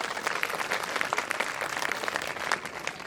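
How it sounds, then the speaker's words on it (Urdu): A crowd at an education expo podcast session breaks into loud applause, many hands clapping in a thick, continuous patter with sharper individual claps popping out near the listener. "بجائے زوردار تالی."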